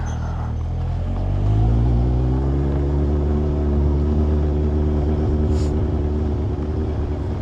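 A motorcycle being ridden after a makeshift roadside repair, its engine droning loud and steady with rising and falling pitch as it accelerates, close to the rider, with no speech.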